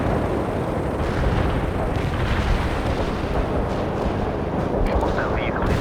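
An artillery barrage in the video game World in Conflict rumbles as a dense, continuous roar of blasts and booms, loud and unbroken, with crackling impacts and radio voices faintly mixed in.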